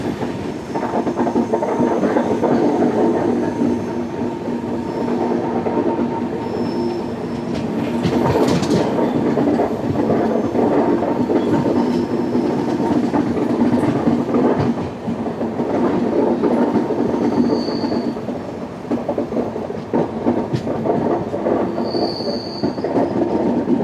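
The 16332 Express rumbles along the rails with a loud, continuous roar, rhythmic clickety-clack and brief wheel squeals, heard close up from inside a 2A coach.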